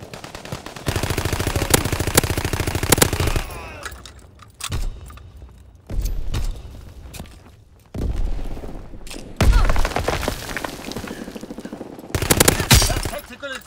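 Repeated automatic gunfire in the World War II shooter Call of Duty: WWII, loud sustained bursts broken by short pauses, with booming impacts and occasional shouted voices in the mix.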